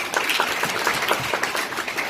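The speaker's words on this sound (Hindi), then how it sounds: "जोर से ताली बजाओ टीवी वाले।" A church congregation claps loudly and steadily throughout, a dense sustained wash of hand claps with no pauses or voices breaking through.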